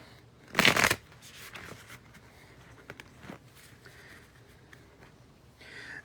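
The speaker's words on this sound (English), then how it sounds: "what you do is you shuffle the deck." A short burst of tarot cards being riffle-shuffled, followed by soft scattered taps and shuffling noises in a quiet room.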